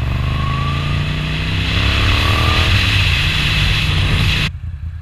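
A Moto Guzzi V9 Roamer with an 850cc engine and an aftermarket Agostini exhaust rumbles close by, a deep throaty engine note rising as it revs before cutting off abruptly near the end.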